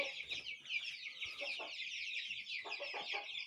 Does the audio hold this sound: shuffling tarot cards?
no